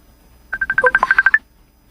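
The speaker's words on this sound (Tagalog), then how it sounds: "Ang akong cellphone." A quick run of about a dozen short, evenly spaced mobile phone keypad tones, clear and close, lasting under a second against near silence.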